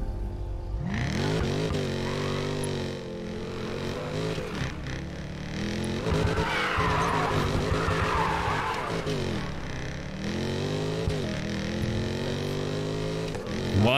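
Tuned car in the Need for Speed Payback racing game, its engine revving and rising through gears with sustained tyre squeal and skidding, loud and continuous, with no talk over it.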